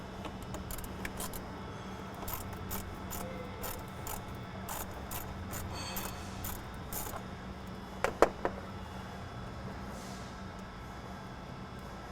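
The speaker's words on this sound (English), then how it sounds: "now you're going to loosen this hose clamp, remove the IAT sensor, and then pop out these two clips that are holding the wire harness to the airbox" Metal hose clamp on the cold air intake of a 2.0L Ford Bronco Sport or Maverick being loosened by hand, with a steady run of small clicking and ratcheting taps, two sharper clacks near the end, over a low background hum.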